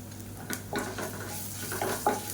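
Crushed garlic with dried chilies and curry leaves frying in a pan, a soft sizzle under several distinct stirring scrapes and clinks of a utensil against the pan, close up.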